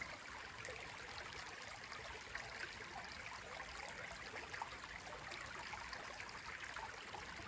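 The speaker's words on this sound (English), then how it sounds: "For sound, I invite you all to listen to this stream." A woodland stream flows over rocks, a steady, fairly faint rushing and trickling that continues evenly throughout with no voices.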